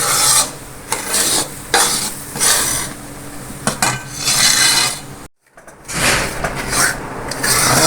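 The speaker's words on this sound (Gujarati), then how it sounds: "એટલે હજી થોડીક વાર આપણે આ હલાવીશું" Besan roasting with ghee and cream in a pan for magas laddoos, stirred with loud rhythmic rasping scrapes of a spatula against the metal, briefly pausing before resuming; no speech.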